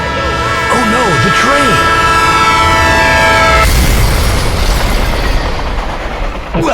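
A train sounds a long, loud multi-tone horn while approaching at night in Jacksonville, with people talking over it. It then gives way to a heavy, close rumble of the train passing.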